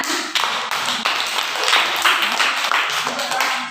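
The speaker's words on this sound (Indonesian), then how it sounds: "Tepuk tangan untuk kelas 1" Elementary pupils in a classroom clap their hands together in short bursts, a close, loud patter of many hands with brief pauses between rounds.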